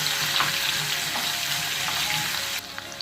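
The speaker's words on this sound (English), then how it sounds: "As you can see, it's sizzling away." Half a teaspoon of garlic sizzles steadily in a frying pan for duck curry, a continuous close frying hiss with faint stirring scrapes, ending slightly quieter.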